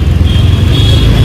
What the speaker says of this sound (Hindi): इतना ट्रैफिक है यहाँ ना